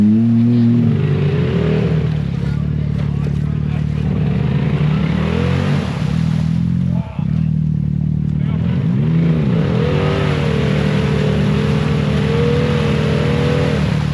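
A Polaris RZR or Can-Am Maverick off-road vehicle works through a muddy rut on a trail ride in wet weather, its engine droning loud and close with rising revs, while voices call out over it.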